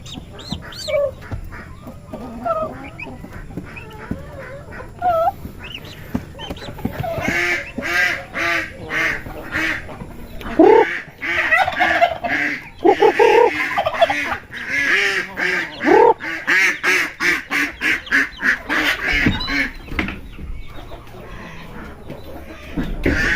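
Many chickens clucking and squawking close by, a busy overlapping flock growing louder and denser midway, with no talking.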